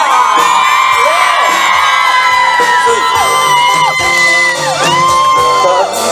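A concert audience at an outdoor Taiwanese-language show in Linkou, New Taipei cheers and screams loudly and steadily, with shrill whoops and yells rising above the roar.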